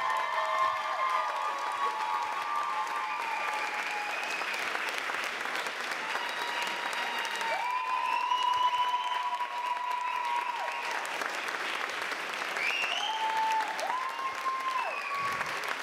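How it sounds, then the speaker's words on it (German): A crowd at a poetry jazz slam in a bar gives long, loud applause for a poet, with dense clapping, scattered cheers and whoops, and a few voices rising above it. "ein Applaus für die Poetin, nicht für die Wertung"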